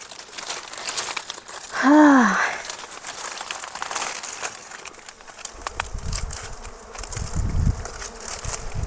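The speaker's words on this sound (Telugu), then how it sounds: "చూసారా ఫ్రెండ్స్ ఈగలు ఎలా వస్తున్నాయి." Bees buzz steadily close by, with a brief louder drone passing near and some rustling and faint background voices.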